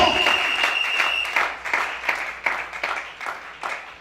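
A church congregation at a Gabonese worship service bursts into dense, continuous applause, many hands clapping at once in a loud crowd wash that swells and dips over several seconds.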